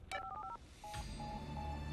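A cartoon phone is dialed with a quick burst of keypad tones, then a short pause and a ringback that repeats in steady pulses. All of it sounds fairly quiet and thin.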